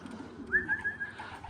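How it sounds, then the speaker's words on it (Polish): A racing pigeon coos softly nearby, a short rising call followed by a few gentle pulses against quiet background. "mamy pięć gołębi"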